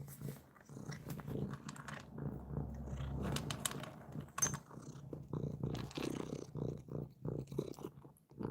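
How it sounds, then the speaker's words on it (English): A rescue cat purrs steadily up close with a low, rumbling rhythm, broken by small shuffling and chewing-like noises around it. "Some cat purring sounds."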